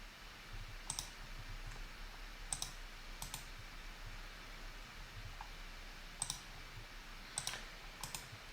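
Quiet, sparse computer mouse clicks while right-clicking measurements in Bluebeam software, about eight crisp close clicks spaced irregularly over a soft hum, with no voices.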